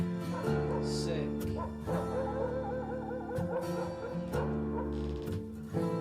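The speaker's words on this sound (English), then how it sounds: "Wild dogs." Dogs bark, yip and whimper through a rock song, the barks rising over sustained guitar and keyboard chords as part of the recorded music.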